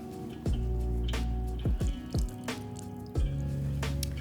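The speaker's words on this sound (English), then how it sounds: "And we're gonna do some lemon juice." Lemon juice for aioli is squeezed close up into a bowl, giving a few sharp separate drips and splats spread over a few seconds, with no talk.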